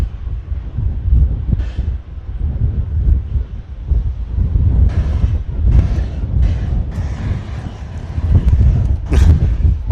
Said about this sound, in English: This wind is nuts